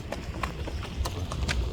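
A Karabair stallion is walked outdoors. Its hooves clip-clop in a loose, uneven rhythm of sharp, close strikes over a low background hum.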